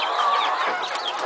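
Hens clucking and squawking during a squabble among chickens, close and lively with overlapping calls, alone without talk.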